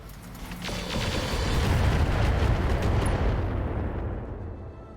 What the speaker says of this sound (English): Now those are tandem rockets